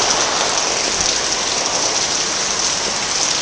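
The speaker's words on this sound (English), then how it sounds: "It's been raining all afternoon." Steady rain falls continuously, a dense even hiss of drops on surfaces, close and fairly loud with no other sounds.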